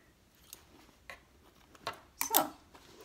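A few quiet, crisp snips of scissors cutting close by while sewing a handbag, ending with a louder cluster of snips.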